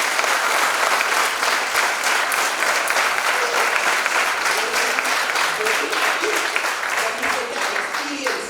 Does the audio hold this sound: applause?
yes